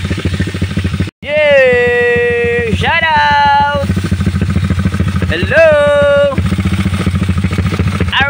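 Parked motorcycles rev loudly and repeatedly over a steady engine rumble, with excited voices shouting and greeting nearby.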